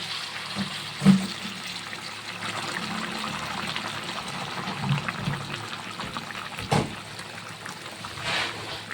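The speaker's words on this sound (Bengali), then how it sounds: "এখন এখানে আমি গরম জল দিয়ে দেব।" Hot water poured into a thin hilsa fish curry with potato and eggplant in a pan, a gentle trickling splash with a few louder bumps and a soft continuous simmer.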